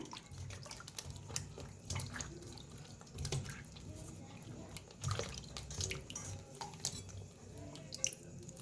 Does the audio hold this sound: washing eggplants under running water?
yes